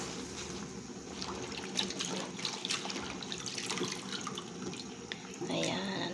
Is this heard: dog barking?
no